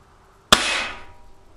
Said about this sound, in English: going to cock the hammer, just get it double action from the get-go, or sorry, single action from the get-go